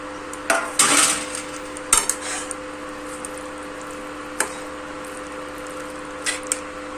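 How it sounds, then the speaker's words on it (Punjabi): Curd being mixed in a pan for spicy okra (bhindi), a few scraping and clinking spoon strokes against the pan, loudest near the start, then sparse taps over a steady low kitchen hum. "ਦਹੀਂ ਨੂੰ ਚੰਗੀ ਤਰ੍ਹਾਂ ਮਿਕਸ ਕਰ ਲਾਂਗੇ"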